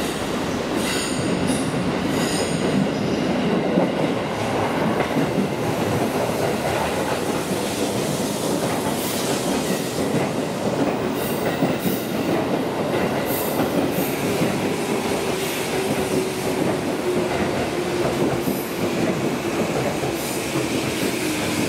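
Tokyo Metro Tozai Line train at Nishi-Funabashi Station, a loud continuous rumble of railcars with clattering wheels and a drawn-out wheel squeal as it runs through the platform.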